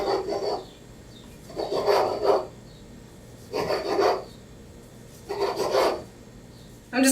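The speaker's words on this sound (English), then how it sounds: "I'm just kind of rolling it up and slicing it so that we get decent sized chunks" A knife slices through rolled Tofurky vegan deli slices on a board in a kitchen, making four or five soft, rasping strokes in an even rhythm with quiet pauses between them.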